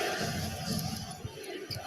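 An arena crowd at Chase Center during a basketball game, a dense, sustained roar of cheering voices that fills the whole stretch at steady loudness.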